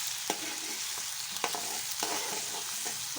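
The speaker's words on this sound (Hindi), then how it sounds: "और साथ साथ इसे हिलाते जाएंगे ताकि ये जले ना।" Ginger garlic paste being stirred in a hot pan for fish curry, a steady frying sizzle with a few sharp scrapes of the spoon at irregular intervals, close and moderately loud with no talking.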